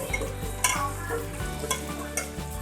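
Ingredients frying in hot oil for a cumin dal with gourd: a soft continuous sizzle under repeated spoon scrapes and light clinks against the pan, close and steady, with no one talking.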